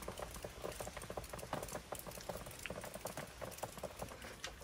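Morning rain patters in a soft, steady, fine-grained crackle, faint and continuous throughout with no voices.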